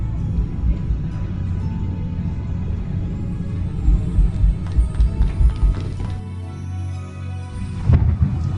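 Stormy weather in the Harry Potter and the Prisoner of Azkaban PC game: a steady low rumble with rain-like wash and a few heavier thumps of thunder, fairly loud and without talk.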